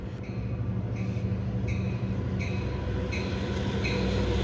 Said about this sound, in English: Next, we see Montauk Branch train number 80 en route to Patchogue